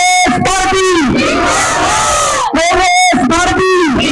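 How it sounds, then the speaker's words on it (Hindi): A political rally crowd at a welcome event for an MLA and minister shouts slogans in unison, loud massed voices chanting in repeated call-like bursts with brief gaps between phrases. "मेरे साथ नारे लगाए"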